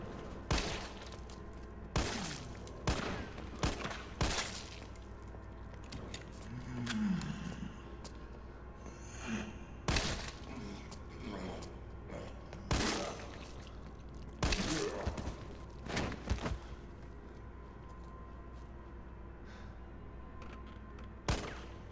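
Rapid bursts of gunfire in the video game Resident Evil 3 Remake crack out repeatedly, loud sharp shots in uneven volleys with a low background hum between them.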